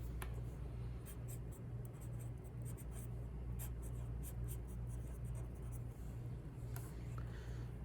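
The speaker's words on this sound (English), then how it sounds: "I'm going to write this down and then I'll explain it to you." Pen or pencil scratching out hand lettering of 3D letters, a quiet run of short rhythmic strokes and taps over a steady low hum, with no talking.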